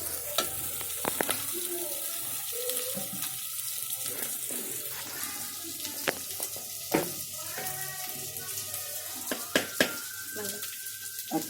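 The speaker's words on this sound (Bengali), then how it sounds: "আদা দিয়ে লবণ দিয়ে পেঁয়াজটা ভালো করে কষাবো।" Onion sautés in a pan with ginger and salt, a soft sizzle with scattered spoon scrapes and knocks, fairly quiet, with a faint running-water sound in the background.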